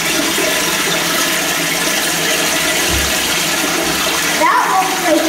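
A public toilet in a cinema restroom at a mall flushes with a steady, loud rush of water that runs throughout, splashing hard and gurgling near the end.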